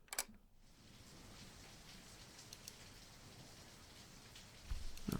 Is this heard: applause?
no